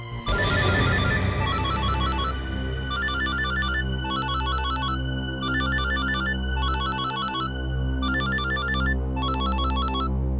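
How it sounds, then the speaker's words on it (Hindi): An electronic phone ringtone in a Hindi crime-drama scene plays a bright, repeating melodic pattern, about eight clear bursts in steady rhythm over a low background hum, loud and close, with no speech. "हाँ, उसी का फोन है।"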